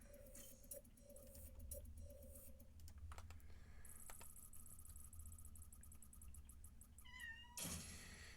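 A house cat meows a few times near the end, quiet and somewhat distant, with computer keyboard typing clattering throughout and a brief jangle of keys.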